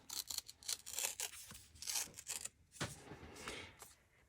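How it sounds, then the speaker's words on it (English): Scrapbook paper is torn by hand for a layout, close and fairly soft, with several short ripping and rustling bursts separated by brief pauses. "tear away some of this paper."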